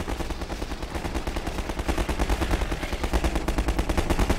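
Sustained automatic gunfire in Half-Life 2, a fast, even burst of loud shots rattling continuously and growing slightly louder toward the end.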